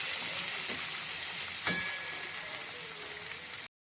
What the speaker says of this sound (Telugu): వేసి ఈ ఆనియన్స్ కూడా మంచిగా ఫ్రై చేసుకుందాము